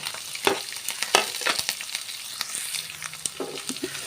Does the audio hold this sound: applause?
no